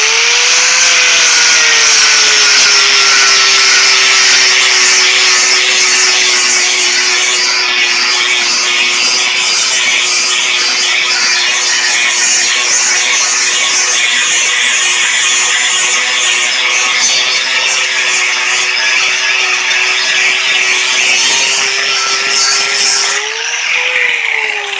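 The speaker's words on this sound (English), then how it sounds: "Now you take your grinder and you grind the finish smooth" An angle grinder with a 40-grit sanding disc runs loudly and steadily, its high, rough abrasive hiss smoothing metal bed rails for a long stretch before slowing briefly at the end.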